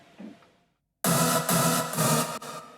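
A thick, wide detuned synth layer enters abruptly after a quiet moment and sustains loudly with a slight rhythmic pulse.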